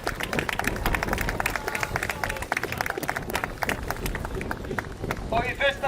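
Enthusiastic applause and cheering from a crowd at an outdoor street-mile running race prize ceremony, brisk dense clapping with a voice over the loudspeaker.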